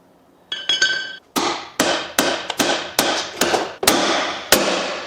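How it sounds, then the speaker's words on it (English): A hammer knocks a car part into place on a totaled high-mileage Cadillac Escalade: about nine sharp metallic strikes in an uneven rhythm, loud and close, after a brief faint clink. "Needs a little more hammer time. We'll just knock that over a little bit."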